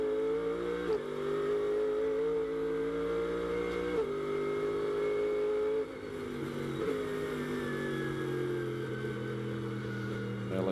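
Onboard engine roar of the CrowdStrike Mercedes GT race car at Sonoma, a loud sustained harmonic drone that climbs in pitch through the gears, with brief dips at each upshift and steady high revs throughout.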